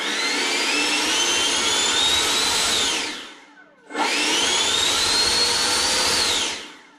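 A Freewing T-33 RC jet with a nine-blade ducted fan spools up to a loud, smooth, high whine, winds down, then spools up again before tapering off, close and steady with no talking.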